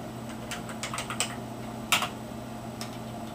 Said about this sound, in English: This is a box where you'll type.